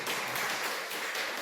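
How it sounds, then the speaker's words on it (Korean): Congregation applause at a Wednesday church service, a dense, even wash of many hands clapping throughout, fairly close and full. "네, 박수."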